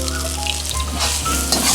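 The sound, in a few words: karimeen fish frying in oil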